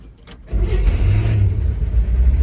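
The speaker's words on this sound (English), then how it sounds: "We're going to start up our Chevy Corvair Rampside." A 1961 Chevrolet Corvair 95 Rampside pickup cranks briefly and its engine catches, settling into a loud, steady, close-up idle rumble.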